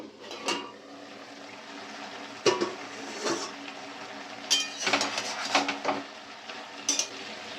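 Spinach being stirred in a cooking pan for a Bengali-style chachchori: irregular scrapes and knocks of a spoon against the pan, with a soft wet rustle of leaves between strokes.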